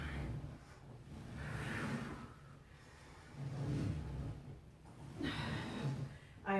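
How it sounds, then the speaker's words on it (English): Heavy breathing during a Tabata workout, with several deep, audible inhales and exhales in slow rhythm, close and fairly quiet, with a sharp gasp near the end. "And we're breathing."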